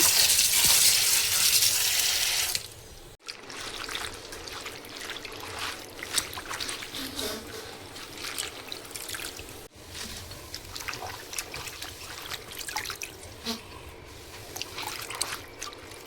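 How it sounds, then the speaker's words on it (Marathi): Spinach leaves are rinsed by hand under running water, a soft, steady trickle with gentle splashing and light rustling that carries on for most of the time after a louder opening gush. "चला, हे पालक आपण धुवून घेऊया।"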